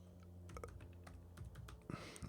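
Keyboard shortcut presses while working in After Effects, including Shift and arrow keys: a run of soft, close key clicks at an irregular pace, with no talking.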